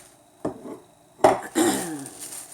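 Metal pot lids clank and rattle as they are picked up and set down, a few separate knocks followed by a ringing scrape.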